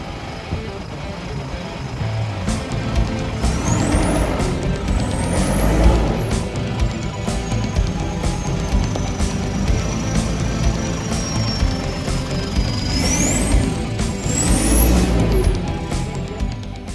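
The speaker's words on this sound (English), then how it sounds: "Gerard from GB Diesel Services taking on this obstacle with his Isuzu" An Isuzu truck grinds through an off-road sand pit obstacle, its diesel engine droning loudly and continuously with rising and falling high-pitched whines as it strains and shifts.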